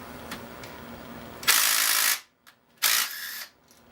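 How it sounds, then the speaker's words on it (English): A nut driver spinning out one of nine same-size bolts holding the cylinder jug on a Kohler KT17 engine, heard as two loud, close bursts of whirring, each about half a second long, with a small click between them. "I will use my my nut driver here"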